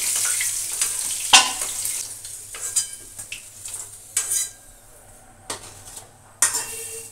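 Potatoes frying in a pan for a traditional potato-mutton curry, with intermittent sizzling and clattering stirring bursts, scrapes and knocks rising and falling over a low, steady background hum; no talking.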